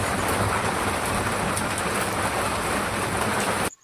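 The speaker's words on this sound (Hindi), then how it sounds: "बाहर सिर्फ बारिश हो रही थी" Steady, dense rain pouring down, a continuous broadband hiss with no voices, cutting off abruptly at the very end.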